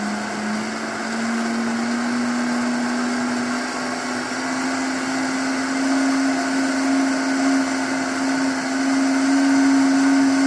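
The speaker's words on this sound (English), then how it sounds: "Okay, so you're ready to blend. We're ready to blend." A blender whirs steadily while blending raw almond nut milk, a loud continuous motor hum whose pitch creeps slowly upward across the whole stretch, with no talking.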